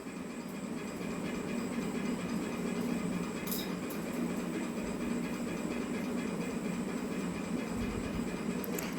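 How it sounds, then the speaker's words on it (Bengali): A pan of red lentils (musur dal) and banana flower boils steadily, a continuous close rolling hiss and bubbling that holds even and loud throughout, with no voices. "জলটা ভালোভাবে ফুটছে"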